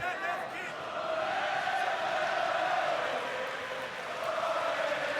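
A large Irish arena crowd at a Bellator MMA event roars and cheers in a sustained, loud wash, swelling and holding across the whole span, with a commentator's voice faintly under it.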